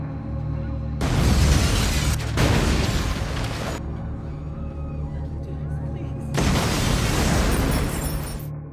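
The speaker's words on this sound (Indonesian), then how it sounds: "Akibat dari ledakan bom tersebut," A bomb goes off at a minimarket in a film scene. Two loud, roaring blasts, each lasting a few seconds and separated by a quieter stretch, sit over a low rumbling background.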